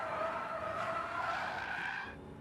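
An RBW MGB car braking hard and sliding sideways, its tyres letting out a sustained, wavering squeal for about two seconds before it fades away.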